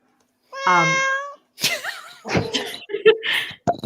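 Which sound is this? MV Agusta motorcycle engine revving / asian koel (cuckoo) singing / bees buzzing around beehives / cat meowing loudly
cat meowing loudly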